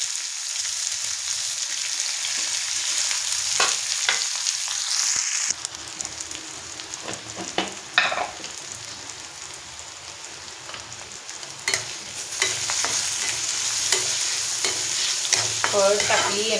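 Onion sizzling in a hot pan for chicken curry: a steady, close frying hiss throughout, broken by several sharp scraping stirs and clinks of a spoon against the pan.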